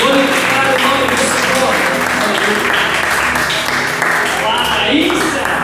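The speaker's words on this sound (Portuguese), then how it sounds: "Pode bater palmas com a palavra de Deus" A congregation at a Bible study claps hands steadily and loudly throughout, with music and voices mixed underneath the continuous clapping.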